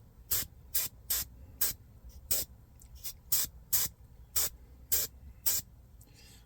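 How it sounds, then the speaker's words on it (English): Airbrush spraying gold paint onto miniature Marine armor at about 30 psi, a series of short, sharp hissing bursts repeated at a fairly regular pace, close and fairly loud, with quiet gaps between each burst. "I'm spraying at a higher pressure"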